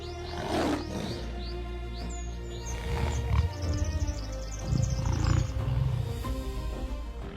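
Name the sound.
lion roaring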